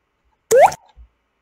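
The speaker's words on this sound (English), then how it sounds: "we heard that water drop sound" A water drop sound effect from a homemade video game: a single clean, bright plop with a rising pitch, very short and alone against silence.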